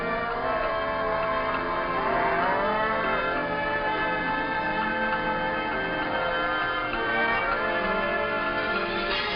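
Cattle low repeatedly on open Florida grassland, several overlapping moos rising and falling at a steady, fairly close level throughout with no talk.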